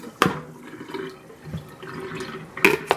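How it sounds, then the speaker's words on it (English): Water dumped out of a salad spinner after washing kale, heard as a few brief splashes and pours separated by quieter trickling, close by with no voices. "Then dump the water."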